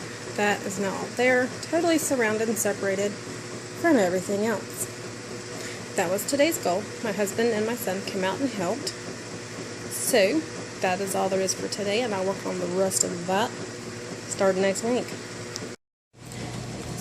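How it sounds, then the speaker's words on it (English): A washing machine and a clothes dryer run in a garage, a steady mechanical hum and whir underneath someone talking continuously throughout. "sorry about the noise. I have the washer and dryer going."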